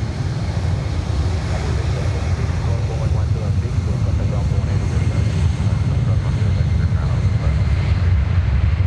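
A heavy jet airliner takes off from runway 9 at Miami International Airport, with a loud, steady roar of jet engines filling the whole stretch and no talk over it.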